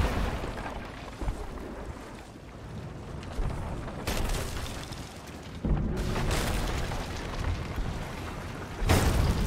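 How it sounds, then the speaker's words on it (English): Sea of Thieves galleon cannons firing in a naval video game battle, heavy booming blasts with sharp broadband onsets around four, six and nine seconds over a constant rumbling wash of sea and wind, no talk. "The galleon is shooting."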